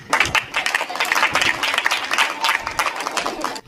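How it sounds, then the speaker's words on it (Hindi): Clapping from a crowd at an evening comic poetry gathering, a dense and lively rattle of many hands that swells and fades briefly near the end. "अब क्या आपके कानों में आकर कहूँ कि ताली हो जाओ?"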